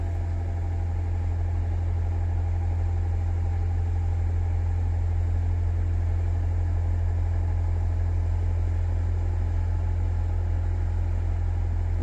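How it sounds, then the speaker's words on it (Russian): A boat engine at a river lock gateway on the Escaut river in Kain, Tournai, drones steadily at idle, a loud continuous low hum and rumble without pause. "вот он включил двигатель"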